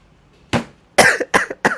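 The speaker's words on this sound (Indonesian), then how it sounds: "Aduh, saya batuk." A person coughs four times in quick succession: one sharp, loud cough, then a tight cluster of three more, all close and clear against near silence.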